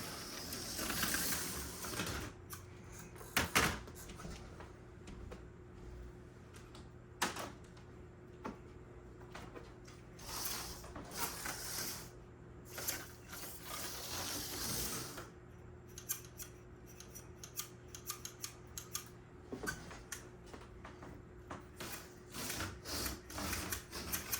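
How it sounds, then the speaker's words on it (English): Small clicks, rubbing and scraping from adjusting an OS3 HO Lite B slot car hand controller, a series of sharp irregular ticks over a steady low hum, fairly close and fairly quiet. "Right now I'm trying to adjust this hand controller and I'm goofing up."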